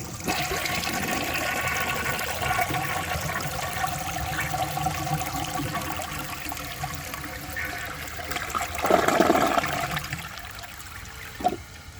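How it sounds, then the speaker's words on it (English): A 1965 Southern Porcelain toilet flushing, steady rushing and gurgling water at close range that swells into a louder surge near the end, with a short sharp knock just after, no talking. "I'll show you guys a flush"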